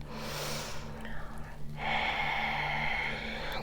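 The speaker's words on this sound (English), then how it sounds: "2 more big breaths." Deep breaths during chair yoga: a long breathy exhale, a pause, then a slow steady inhale, close and soft over faint background hum.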